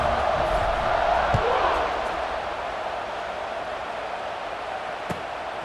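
Football stadium crowd at a Virginia Tech versus Texas Tech game roaring before kickoff, a loud sustained wash of cheering that eases slightly after a couple of seconds, with a couple of sharp knocks.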